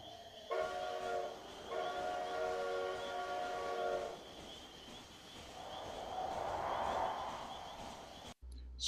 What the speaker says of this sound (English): Strange thing is that the train's going now, but the train track is way far off.